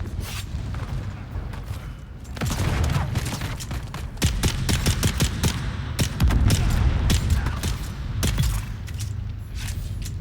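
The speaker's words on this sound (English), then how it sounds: "Grenade." A grenade blows up amid sustained gunfire in Dune: Awakening, with a rapid volley of sharp loud shots and bangs over a low rumbling bed, recurring in bursts across the fight.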